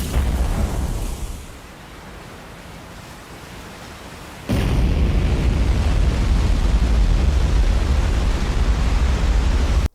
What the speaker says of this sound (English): So the missiles with the virus also exploded